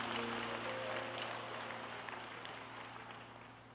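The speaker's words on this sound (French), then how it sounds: "Applaudissez pour Jésus." Worshippers in a church service applaud for Jesus, a continuous crowd of clapping hands over a held keyboard-like drone, gradually easing in volume.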